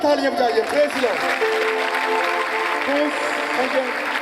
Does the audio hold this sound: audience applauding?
yes